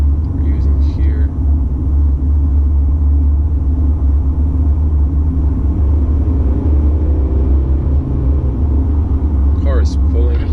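A 2019 facelift Mercedes C-Class 220d diesel car accelerates on a Croatian road, its steady low engine rumble and road noise continuous and loud throughout, with brief faint voice sounds near the start and end.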